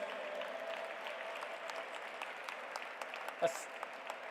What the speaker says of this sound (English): Please give him a big round of applause, friends.